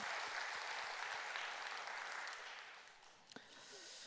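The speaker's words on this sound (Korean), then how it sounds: "우리 수고하신 분들에서 감사의 박수일까요?" A church congregation gives thankful applause to those who prepared a meal, a soft, sustained patter of many hands that thins out near the end as a voice briefly speaks.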